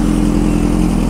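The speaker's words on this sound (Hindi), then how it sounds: "बाइक स्टार्ट करनी है अपने अपने।" A group of motorcycles runs steadily on a night ride, a loud, constant engine drone close by with no break or pause.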